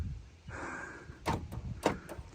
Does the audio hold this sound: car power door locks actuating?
yes